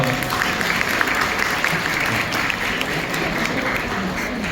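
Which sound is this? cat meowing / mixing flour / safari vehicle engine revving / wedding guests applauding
wedding guests applauding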